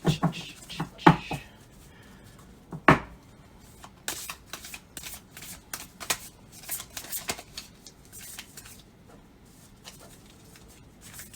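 Playing cards being shuffled by hand, with riffling bursts near the start and a string of soft, quick flicks and taps afterward, close and fairly quiet.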